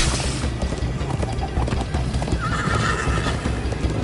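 Horse hooves gallop in the Minecraft Story Mode video game, a loud, continuous rapid clatter with whinnying over a dense rumbling mix of game sound.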